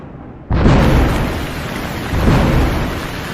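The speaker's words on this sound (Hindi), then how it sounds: "आखिर बहुत तेज़ बारिश हो गई" Heavy rain and a rumbling crash of thunder open abruptly at full loudness and stay dense and steady, a second swell rolling in near the end, used as a storm effect in a children's story.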